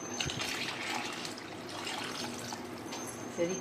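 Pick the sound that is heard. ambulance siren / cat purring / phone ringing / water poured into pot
water poured into pot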